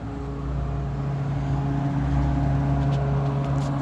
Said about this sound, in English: Let's go check out this metro vent over here.